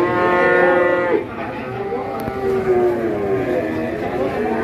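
Several cattle moo loudly and close by at a busy livestock market in Tuban, Indonesia, where young bull calves are traded, with long overlapping calls carrying over a steady crowd murmur.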